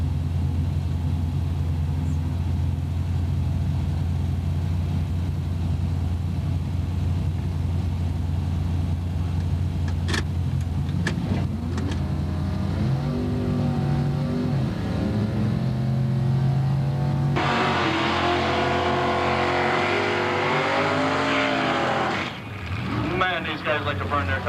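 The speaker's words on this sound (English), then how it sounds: "Like to burn their tires." Drag racing cars at a 1997 Wildhorse Gambler's Choice Classic strip rev their engines in a steady, heavy rumble. A louder roaring burst builds toward the end, with a track announcer talking over it.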